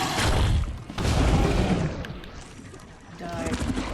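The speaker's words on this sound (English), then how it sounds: "now I'm gonna bounce a couple grenades." Grenades bursting during combat in The Sinking City video game, with loud booming detonations and rumbling gunfire-like blasts filling the mix, then a fading tail and another swell of explosive noise.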